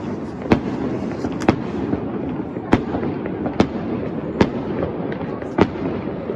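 Fireworks bursting over Catania during New Year celebrations, a series of sharp distant bangs at irregular intervals over a constant crackling, rumbling background din.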